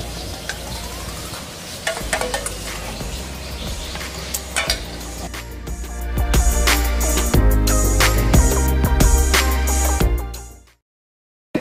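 A lime-dressed ceviche-style dish is stirred and mixed in a bowl, with close, wet clinks and scrapes of a utensil that build, then stop abruptly.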